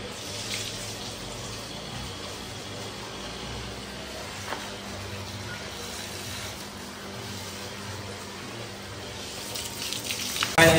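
Water runs in a steady, even hiss while a muddy motorbike is washed during Holi, continuous and close, with a brief splash near the end.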